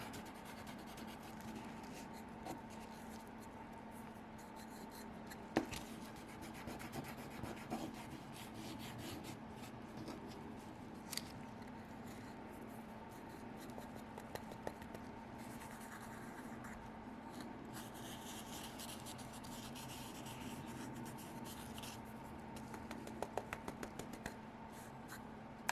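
Steady, close scratchy rasping as an acrylic glitter blank is rubbed down flat by hand, continuous back-and-forth abrasion with a few sharp clicks, no talking.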